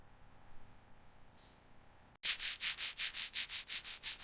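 Sanding down the badly corroded body of a Lamborghini during restoration. After a quiet start, about nine loud, rhythmic back-and-forth rasping strokes come close up.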